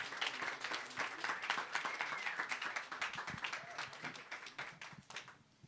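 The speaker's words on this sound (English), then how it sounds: "Big round of applause for Matt Dickert." An audience applauds steadily, many hands clapping close together before the clapping tapers off toward the end.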